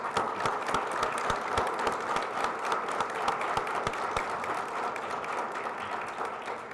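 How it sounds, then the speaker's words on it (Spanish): Applause from a book fair audience greets a journalist taking the stage, steady and moderately distant, a hall full of hands clapping without a break. "Un aplauso para Jorge."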